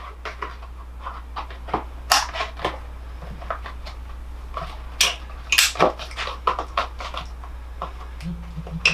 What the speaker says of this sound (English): Alright, this is a can opener on cardboard.